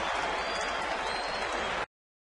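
Baseball stadium crowd applauding and cheering after a scoreless inning at a Dodgers game, a steady broad wash of distant clapping that cuts off abruptly.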